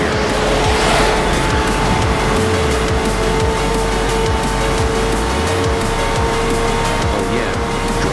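Roaring race car engines in Forza Horizon 4 on Xbox One X, loud and continuous with revving pitch sweeps, gear changes and tire squeals blending into a busy racing din with no talk.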